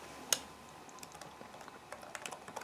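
Keys on a computer keyboard click in short, quiet bursts of light taps, with one sharper keystroke near the start and a quicker run of presses toward the end.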